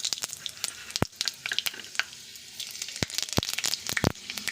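Panch phoron spices crackle and sizzle in hot oil left over from frying bori, with sharp pops and spits scattered over a steady frying hiss, close and fairly quiet.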